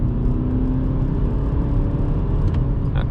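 Inside a 2020 Volkswagen Golf 8 at night, launched at full throttle from the brake with traction control on: a loud, steady engine drone and road roar that holds strong for a few seconds, with no talking.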